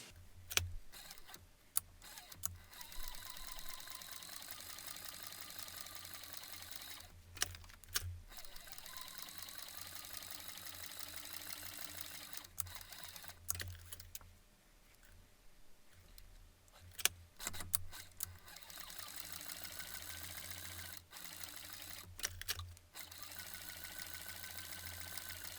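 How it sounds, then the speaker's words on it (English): A sewing machine stitches leather belt billets in long steady stretches, stopping briefly several times and starting again, with some soft handling noise in the pauses. "we'll carry this over to the sewing machine and go ahead and sew these billets in place."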